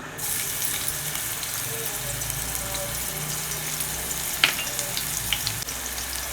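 Garlic frying in a generous amount of hot oil for an ivy gourd fry gives a steady, close sizzle throughout, with a brief sharper crackle midway.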